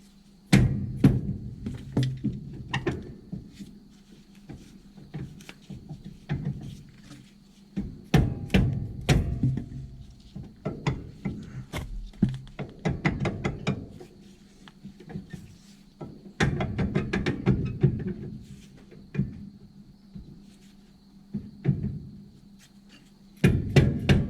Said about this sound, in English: I'll go ahead and pull the brake drum off.